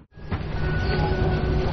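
A military train waits at a station in the Gobi desert, about to depart. It makes a steady, loud, close rumble with a faint sustained hum, and no voices are heard.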